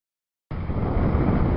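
Strong wind buffets a small boat at sea crossing the Bideford Bar in roughly 15 knots gusting 20, a loud, steady rushing roar that bursts in after half a second of silence and continues unbroken.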